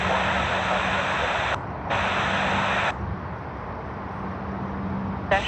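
Scoot Boeing 787-9 Dreamliner jet taxiing at Sydney Airport, a steady hissing engine whine with a low hum, broken by abrupt cuts and returns of the high noise.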